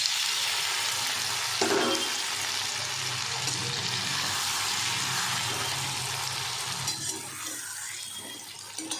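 Fish goes into a pan of frying mustard spice paste for kajli macher, giving a continuous bubbling sizzle with occasional stirring knocks that eases off slightly toward the end.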